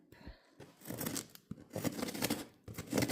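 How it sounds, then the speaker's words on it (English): Close-up scraping and tearing bursts of scissors slicing open a cardboard box, in several strokes with short pauses between them. "I got some scissors here. I'm going to open up the box."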